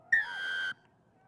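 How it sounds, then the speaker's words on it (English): A referee's whistle at a schoolboy rugby sevens-style tournament, one sharp, shrill blast lasting about half a second, loud and close against a quiet background. "Wait for the whistle."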